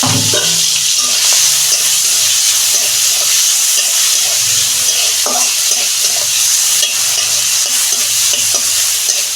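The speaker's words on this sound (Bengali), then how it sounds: "চিংড়ি মাছটা দু মিনিট আমি ভেজে নেব" Prawns fry vigorously in hot oil in a wok, giving a loud, steady sizzle with a constant crackle that runs throughout, no voices over it.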